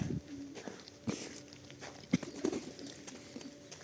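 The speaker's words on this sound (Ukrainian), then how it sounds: "Голуби намагаються щось не вкрасти, поїсти." Pigeons coo softly amid light scuffing and pecking sounds, with a few sharper taps scattered through a quiet outdoor background.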